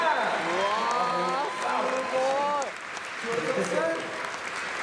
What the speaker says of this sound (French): Je pense qu'il mérite vraiment les applaudissements.